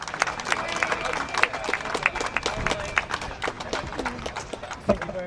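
An outdoor political rally crowd in Braintree applauds for Richard, scattered sharp claps and crowd noise mixed with voices and occasional shouts, moderately distant.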